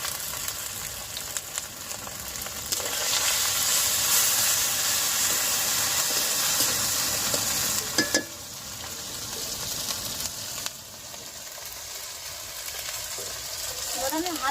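Mustard oil sizzling in a wok with ginger paste, a bright continuous frying hiss with occasional sharp spatters and brief stirring clatters, loud and close throughout.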